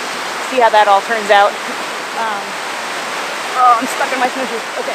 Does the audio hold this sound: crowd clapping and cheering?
no